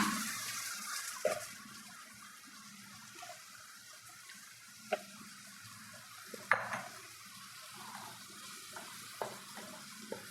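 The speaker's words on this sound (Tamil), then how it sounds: "இப்படியே கொஞ்சம் நேரம் நல்லா வதக்கி விடலாம்" Drumstick pieces sautéing in a pan for a village-style gravy give a quiet, steady sizzle broken by occasional scraping and clinking stirs, heard close.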